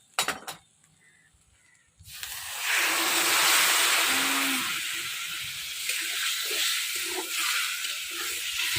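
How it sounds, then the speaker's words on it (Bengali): Water poured into a wok of frying soybean curry sets off a sudden loud, broad sizzle after a few quiet clinks, hissing strongly, then easing into a steady bubbling fry close by. "এবার জল দিয়ে দেবো আমি।"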